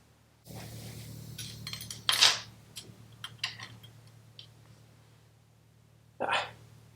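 A metal oil dipstick is handled on a Honda CB550 motorcycle, with scattered light metallic ticks and clinks and two louder scraping rustles, close by over a low steady hum, with no speech.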